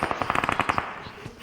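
Rapid automatic gunfire in a mobile shooter game fires as a quick burst of about a dozen sharp shots, then trails off into a faint echo.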